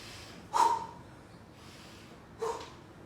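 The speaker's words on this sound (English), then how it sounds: "Breathe heavily if you want." Two forceful exhalations during a strength workout, about two seconds apart, each a short, loud breathy burst through the mouth over a quiet background.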